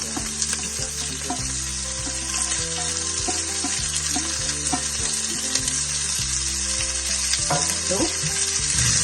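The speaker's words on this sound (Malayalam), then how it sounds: "ഇതിലോട്ട് ഞാൻ കുഞ്ഞായിട്ട് അരിഞ്ഞു വെച്ച, പൊടിയായിട്ട് അരിഞ്ഞു വെച്ച ക്യാരറ്റും അതുപോലെ തന്നെ സവാളയും കൂടെ ഇടാൻ പോവുകയാണ്." Finely chopped carrot and onion sauté in a pan for a cabbage and coconut thoran stir fry, giving a steady, close sizzle with occasional stirring scrapes under soft background music.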